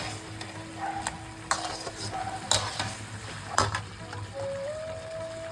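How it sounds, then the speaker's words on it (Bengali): Mutton with spices being stirred and fried in a pot, steady sizzling under several sharp metal spatula scrapes and knocks against the pan, close and without talk. "মশলা সহ মাংসটাকে কিন্তু ভালো করে কষাতে হবে"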